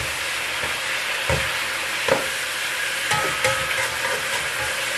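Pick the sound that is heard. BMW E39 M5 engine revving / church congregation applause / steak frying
steak frying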